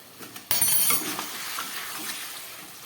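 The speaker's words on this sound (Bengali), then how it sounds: "দিয়ে দিচ্ছি এক চামচ মতো ঘি কষাবার সময় দিয়ে দিলাম" A spoonful of ghee hits a pan of spices being sautéed for a light vegetable curry, setting off a sudden loud sizzle that fades into steady frying with some stirring, close by and without voices.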